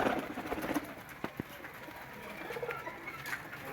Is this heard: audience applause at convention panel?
no